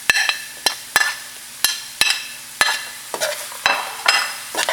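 Onions sizzle in a pan of goat meat asun while a utensil strikes and scrapes the pan in regular sharp taps about every half second, loud and close with no talking.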